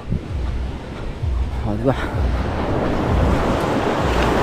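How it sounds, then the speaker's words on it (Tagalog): Calm sea surf washes steadily onto the shore under heavy wind rumble on the microphone, while a person talks briefly nearby. "Pwede ka nang mangitang kasi napakaganda ng kalma ng dagat."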